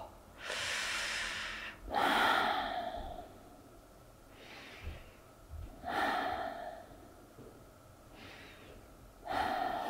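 Deep yoga breaths, slow audible inhales and long hissing exhales in a steady cycle of roughly four seconds, close and fairly soft, with no talking.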